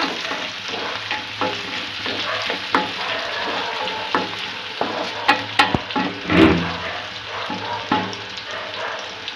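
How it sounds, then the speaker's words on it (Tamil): Curry leaves and onions frying in a pan for a Tamil pepper curry (milagu kuzhambu), a continuous close sizzle broken by irregular scraping stirs and clinks of a spoon, with no voices. "இப்போ கருவேப்பிலையும் வெங்காயமும் போட்டுக்கலாம் கோல்டன் ப்ரௌன் வரைக்கும் நல்லா வதக்கிக்கோங்க"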